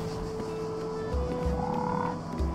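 A frog croaks in the Garden Life Simulator video game, with low repeated croaks pulsing beneath a steady garden ambience of hum and a soft bird-like chirp, no speech.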